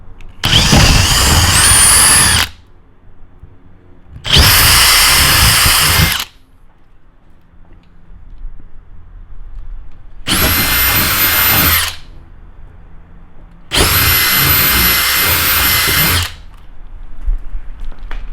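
Power drill with a quarter-inch bit bores holes for mounting a carbon fiber wing on a BMW M3 G80 / M4 G82, four loud whirring bursts of a couple of seconds each separated by quiet pauses.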